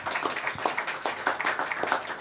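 An audience at an agricultural risk-management talk claps after the speaker finishes, a steady patter of many hands at moderate distance, with no voices over it.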